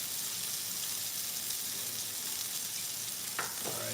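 Shrimp for tacos sizzle steadily in a hot pan, an even crackling hiss that stays constant, broken near the end by a short clatter.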